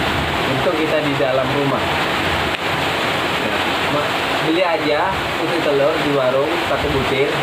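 Heavy rain heard from inside a house makes a steady, loud, broad hiss that runs the whole time beneath a person speaking.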